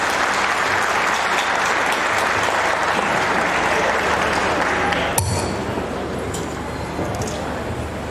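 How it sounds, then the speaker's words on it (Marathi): Audience applause fills a hall at a Marathi theatre conference in Mahabaleshwar, a dense, steady roar of clapping that runs loud and unbroken for about five seconds before easing slightly, with a sharp clink near the end. "एकदा जोरदार टाळ्या."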